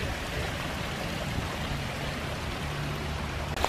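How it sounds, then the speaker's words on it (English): Rainwater runs steadily through Iroquois Park after heavy overnight rain, a constant faint rushing wash like a stream, with no voices. "there's going to be a lot of water running through the park."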